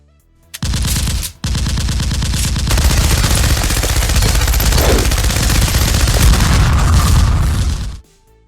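Rapid machine-gun bursts and gunfire effects roar loud and continuous for about seven seconds, dense overlapping shots with booming low end, starting after a brief first burst and a short gap, with no talking.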